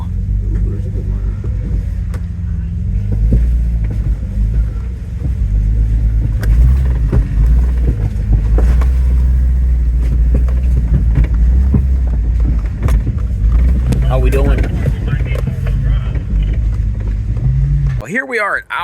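Jeep in four-wheel-drive low crawling along muddy Appalachian backroads during an off-road rally, a steady low engine rumble with wind buffeting throughout and a sharp burst at the very end.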